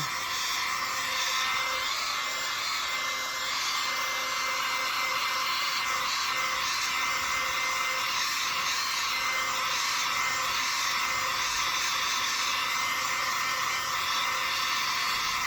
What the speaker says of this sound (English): through modern science, we got a heat gun. So we're just going to dry this a little bit.